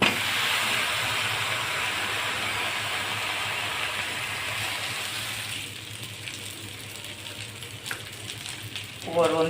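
A sabudana and potato thalipeeth sizzles in oil on a griddle, a loud steady hiss that fades slightly partway through before a brief voice at the end.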